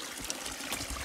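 Mountain spring water trickles and splashes steadily in the Margalla Hills, a close, continuous bubbling wash with no voices.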